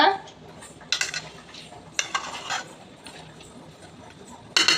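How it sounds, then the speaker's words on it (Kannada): A metal utensil mixes salt into food in a pot with intermittent clinks and scrapes, close and moderately loud, separated by quieter pauses. "ಇದಕ್ಕೆ ನಾನು ಇವಾಗ ಸಾಲ್ಟ್ನ ಮಿಕ್ಸ್ ಮಾಡ್ಕೊತಾ ಇದ್ದೀನಿ"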